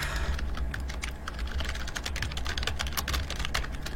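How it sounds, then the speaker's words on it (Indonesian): Rapid, steady keystrokes clatter on a computer keyboard, close and continuous over a low background hum. "aku ketik aja"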